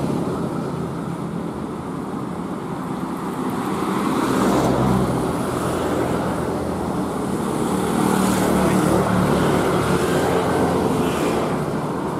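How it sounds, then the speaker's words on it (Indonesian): A tour bus rumbles past nearby over steady road traffic noise, swelling louder midway and staying loud toward the end. "dari tadi banyak bis-bis pariwisata di sini"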